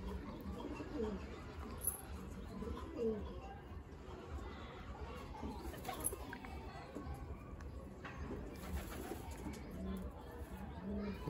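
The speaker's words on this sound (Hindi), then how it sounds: "मेटिंग के लिए कबूतर हुआ पागल" Pigeons cooing while courting and mounting one another, soft repeated low coos with scattered chirps and chatter over steady outdoor background noise.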